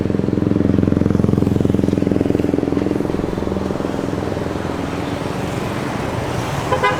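A busy street in Payakumbuh at eleven at night carries a loud, continuous rumble of passing cars and motorbikes, with short horn toots breaking through near the end.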